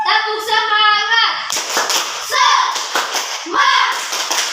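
Children clap out the rhythmic 'tepuk semangat' cheer in a classroom, bursts of quick hand claps in a patterned beat mixed with children's chanting voices, loud and close.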